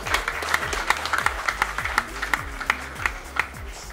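An audience in Mombasa, Kenya applauds a boxer with uneven clapping and distinct individual hand claps punctuating the crowd noise, while a low tonal hum runs underneath.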